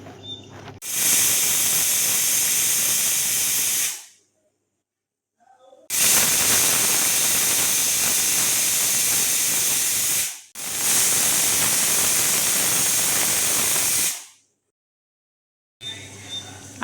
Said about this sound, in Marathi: आता हे झाकण लावून 3 शिट्ट्या काढून घेऊ.